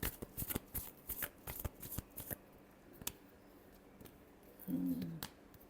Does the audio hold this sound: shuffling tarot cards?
yes